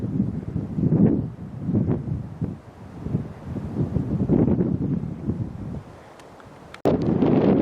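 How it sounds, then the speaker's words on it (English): Strong gusty wind roars across the open ridge of Windy Gap in the San Gabriel Mountains, buffeting the microphone in loud, sustained rushes with brief lulls. "Here we are back at the notorious Windy Gap, and it is windy"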